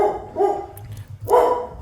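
At a Richmond SPCA animal shelter, a dog gives two loud, close barks separated by a short pause, with no talking.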